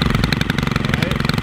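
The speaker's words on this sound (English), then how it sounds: "This is the STIHL Kombi" A STIHL Kombi 131R power tool engine runs steadily and close at a fast, buzzing rhythm while edging a mulch bed around a tree, loud and continuous throughout.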